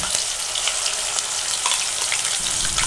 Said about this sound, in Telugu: ఆయిల్ వేడైన తర్వాత ముందుగా తీసుకున్న మసాలాలు వేసి అందులోనే 2 పచ్చిమిర్చి ముక్కలు, ఆనియన్ పేస్ట్ వేసుకొని బాగా కలుపుకోవాలి.